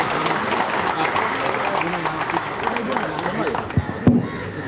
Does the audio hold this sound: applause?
yes